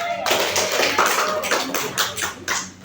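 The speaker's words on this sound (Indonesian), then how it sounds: "Silakan tepuk tangan semuanya." Classmates clapping hands in a classroom during a teaching session, a short scattered round of claps with distinct individual hand strikes, fairly close and fading after a few seconds.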